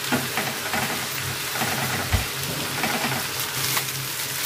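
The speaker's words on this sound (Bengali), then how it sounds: "আর ডিমটা দিয়ে এখন ডিমটাকে একটু ঝুরি করে নিতে হবে" Egg scrambling and frying in a pan for a noodles recipe, a continuous close sizzle with scattered scraping stirs and one dull knock, no voices.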